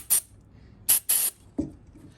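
Several short hissing bursts from an aerosol can of cleaner sprayed into a Mercedes W140 S500 wiper relay area, three sharp sprays close by followed by a softer fourth puff.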